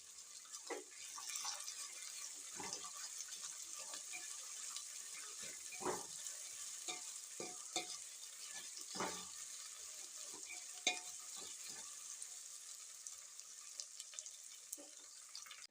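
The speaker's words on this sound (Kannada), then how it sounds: "ಈಗ ಶೇಂಗಾ ಕಾಳು ಹಾಕ್ಯಂತ ನೋಡ್ರಿ" Peanuts fry in hot oil while a pulao is being made: a quiet, steady sizzle broken by scattered clicks and scrapes from stirring, with no voices.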